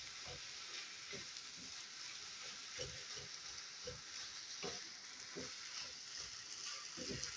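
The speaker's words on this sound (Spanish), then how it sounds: "El ají ya está hirviendo," Ají sauce bubbles and sizzles in a pot on the stove, a soft steady hiss broken by small irregular pops, heard close and fairly quiet with no one talking.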